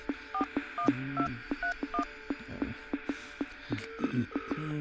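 A quick series of telephone keypad tones, short dual beeps pressed one after another in an uneven rhythm over faint static.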